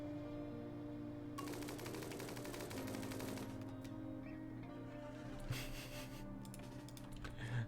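Rapid bursts of gunfire ring out as colonists hunt a red fox in the RimWorld video game, a dense rattling volley over a steady background hum, with a few scattered shots following.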